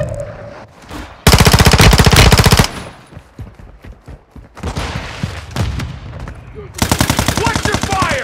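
Loud automatic weapon bursts in Call of Duty Warzone 2.0: two long, rapid machine-gun volleys bracket scattered, quieter shots and clatter, close and dominant throughout.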